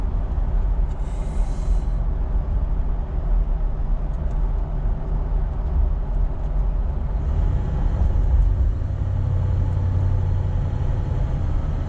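A Toyota 70 Series with a six-speed automatic conversion cruises at about 60 km/h while towing, a low steady engine and road drone inside the cab with a brief higher whine near the start.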